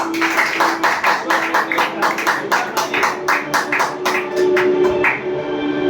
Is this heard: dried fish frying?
no